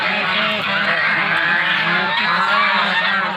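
A large flock of about 84 geese (raj hanh) at a temple in Nalbari honk together in a loud, continuous, overlapping clamour close by.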